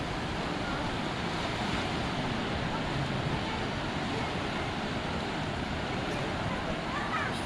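Ocean surf breaks on a beach in Pagera with surfers out in the water, a steady, dense roar of waves rolling continuously throughout with some wind buffeting the microphone.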